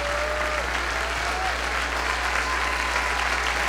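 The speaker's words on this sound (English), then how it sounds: "Give them one last round of applause." Sustained, dense applause from a large crowd, steady and loud throughout, with a faint tone briefly audible beneath the clapping.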